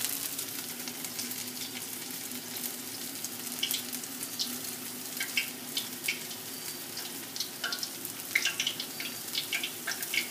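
Homemade zeppole batter frying in hot oil, a steady close sizzle with scattered crackles and pops throughout, alone without any talk.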